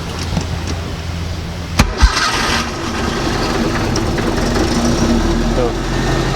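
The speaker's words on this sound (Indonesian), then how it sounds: "hidupin mesinnya" A 1983 Toyota Corolla DX classic car cranks and fires with a short sharp start, then settles into a smooth, steady idle. A voice talks over the engine.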